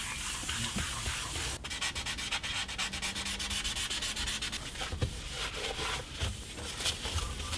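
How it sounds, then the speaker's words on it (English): Continuous rhythmic rubbing of a cork sanding block faced with yoga mat, wet sanding a Gibson SG guitar finish, steady back-and-forth strokes at close range with no talking. "a standard cork sanding block with a rectangle of yoga mat glued to it"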